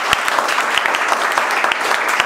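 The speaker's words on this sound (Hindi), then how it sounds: "एक बार दुर्गेश सर के लिए ताली बजाओ यार" Applause for Durgesh sir at a chip-level mobile repair training session, with dense, steady clapping from a group of students filling the short stretch.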